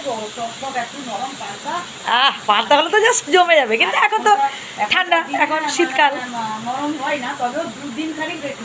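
Radish slices fry in a pan with a steady, soft sizzling hiss running beneath close conversation between two people.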